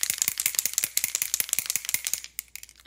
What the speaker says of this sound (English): So you're going to want to shake your spray foundation up really good.